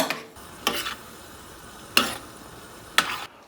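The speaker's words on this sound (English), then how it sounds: "Continue stirring, allow that cream cheese to break down." A spoon scrapes through corn simmering with cream and cream cheese in a pan, three or four distinct stirring strokes spaced about a second apart over a soft background hiss.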